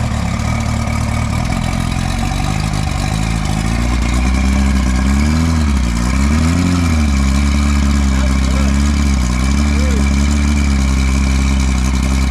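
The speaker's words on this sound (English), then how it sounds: "Idling." A V-4 outboard motor on a Starcraft Jet-Star boat idles loudly and continuously after its first start in over five years, its low drone wavering slightly in pitch now and then.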